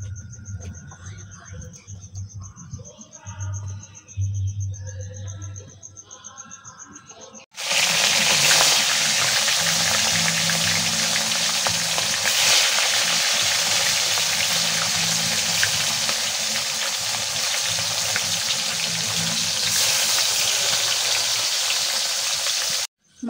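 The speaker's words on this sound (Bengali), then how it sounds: "কড়াইটা গরম হয়ে গেছে মাছ ভাজার জন্য।" Katla fish pieces fry in hot oil in a wok, a loud dense sizzle that bursts in abruptly after a quieter opening stretch and holds steady until it cuts off at the end.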